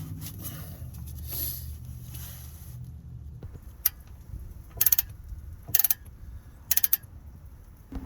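Ratchet working loose a front brake caliper bolt on a 2009 Hyundai Sonata, several short bursts of rapid clicking close by after a quieter stretch of faint background noise.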